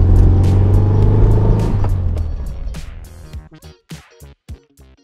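A car engine fires up and revs loudly close by, then the sound thins into a series of short separate bursts that taper off toward the end.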